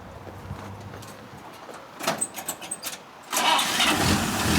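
A car engine cranked with a 6000A portable jump starter: a few rhythmic starter-motor churns, then the engine catches and settles into a loud, steady idle close by.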